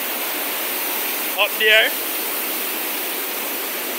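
Broadband rushing of river water at the Rio Cobre dam in Bog Walk Gorge, steady and loud throughout, with someone speaking briefly over it.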